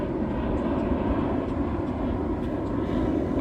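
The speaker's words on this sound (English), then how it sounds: "it's gonna be a lot of airplanes flying over" Low, steady roar of an airplane passing overhead near a beach by the water, a broad continuous rumble holding at even loudness throughout with no speech.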